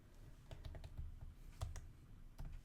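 Computer keyboard typing in a quiet room: a few short bursts of key clicks, close and moderately loud, with brief pauses between them and no talking.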